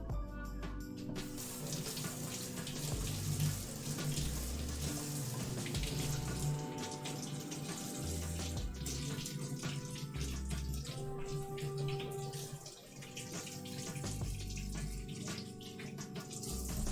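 Tap water running into a kitchen sink while vegetable outer layers are rinsed off, a continuous splashing flow with shifting patter as hands move under the stream, close and fairly quiet, with no talking.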